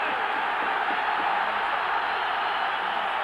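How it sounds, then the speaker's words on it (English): A large football stadium crowd roars in support of Rangers during a 1992/93 Champions League match against Club Brugge, a dense, steady wall of distant cheering with no breaks. "And the crowd getting right behind Rangers now."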